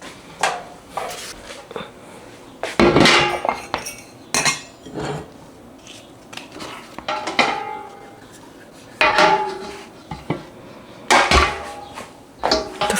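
Ladle clinking against glass canning jars while hot green beans and liquid are spooned in for pressure canning, with repeated bright metal-on-glass knocks and scrapes in irregular bursts, close and fairly loud, no talking.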